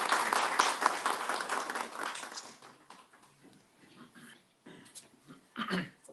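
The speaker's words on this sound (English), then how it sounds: "So please give a round of applause." At a human rights day seminar in Amsterdam, a crowd applauds for a columnist, clapping loudly at first, then fading to scattered claps and faint murmurs, with a brief flare near the end.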